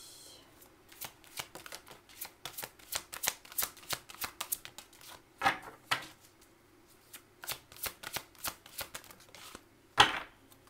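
A deck of cards is shuffled close by for a tarot-style card reading, with rapid riffling bursts and a few sharper slaps in quick irregular rhythm.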